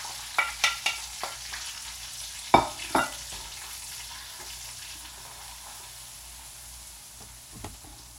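Asafoetida and other spices hit a pan for a spicy stew, giving a burst of clattering stirs and sharp sizzling pops early on, then a quieter steady fry with one last clink near the end.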